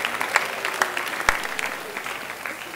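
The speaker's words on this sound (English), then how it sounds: "So give yourselves a little round of applause for being so supportive and awesome." A school audience claps at a student writers' event, a brief, even patter of applause at moderate distance with no talk over it.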